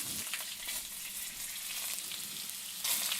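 Onions sizzle in hot oil with a constant bright hiss, close up, swelling a little louder near the end; no voices.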